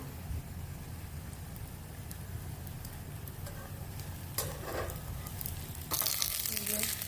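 Custard paratha, Rajasthani style, shallow-frying in a little oil in a pan gives a steady, close sizzle over a low hum, with brighter crackling bursts and some clatter toward the end.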